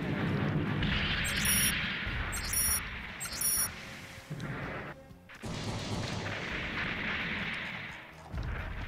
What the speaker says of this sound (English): Rockets go!